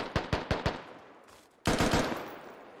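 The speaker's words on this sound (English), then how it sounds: "I think Terrapin tried to shoot through the window there." Gunfire in the tactical shooter game Squad, with four evenly spaced sharp shots followed after a short pause by a louder, denser burst of rapid rounds, fairly close.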